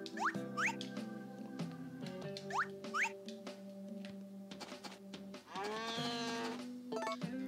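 A cow moos in the farming video game Harvest Moon: A Wonderful Life Special Edition. Several loud moo calls repeat over steady background game music, with a few small squeaky effects mixed in.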